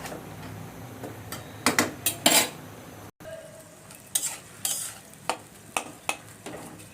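Chopped onion fries in oil in a quiet pan, with soft sizzling and a series of distinct stirring scrapes and clinks, spaced irregularly and heard close up with a brief cut midway.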